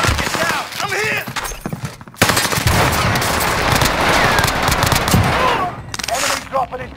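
Rocket strike explosions and automatic gunfire in Call of Duty Warzone, a loud and continuous roar of blasts and rapid shots after a sharp onset, with brief game voice callouts before it.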